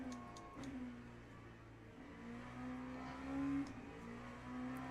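A Sprint LMP2 prototype racing engine in Le Mans Ultimate, running with nerfed top speed, drones steadily at high revs, its pitch rising slightly and falling through shifts, held at a fairly quiet level without voices.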